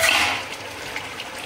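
Yakhni stock is poured into a cooking pot of fried-down yakhni for a beef biryani, a brief splashy rush of liquid that is loudest at the start and tapers into softer trickles and drips, with no talking.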